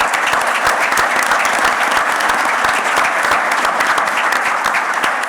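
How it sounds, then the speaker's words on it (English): An audience at a 2023 CRE forum gives a sustained round of applause for a man heading into retirement, a full, steady wash of many hands clapping at even loudness from start to finish. "let's give Eric a special round of applause as he heads out on retirement here"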